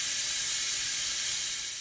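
A steam cleaner, the kind used to clean out a jug, gives off a sustained, even hiss that stands in for an alligator's hiss, steady and close with no pauses or voices.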